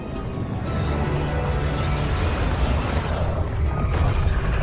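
A rocket explodes in a Roblox game recreating a Fortnite live event: a continuous, loud booming blast with crashing, rumbling debris noise that holds steady throughout.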